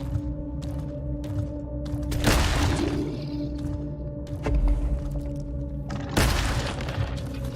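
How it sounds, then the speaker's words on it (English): Grenade launcher firing in the horror game Scorn: two loud booming blasts, one a couple of seconds in and another near the end, over a steady low droning ambience with scattered impacts between. "It's a grenade launcher."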